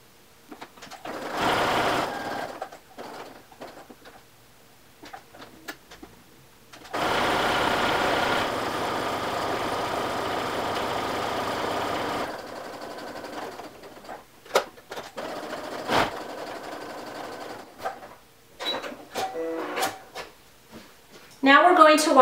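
Sewing machine stitching along the edges of a men's shirt collar in bursts, a whirring run of a few seconds, then a longer steady run, with pauses and occasional faint talk between runs.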